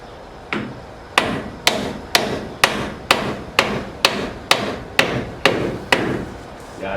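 Sharp metallic hammer strikes on a GM 12-bolt rear axle housing ring out at an even pace, about a dozen blows, loud and close, with no talking.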